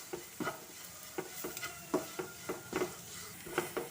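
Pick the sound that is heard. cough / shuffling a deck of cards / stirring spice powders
stirring spice powders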